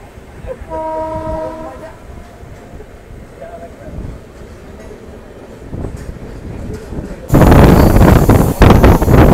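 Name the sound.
Darjeeling Mail passenger train running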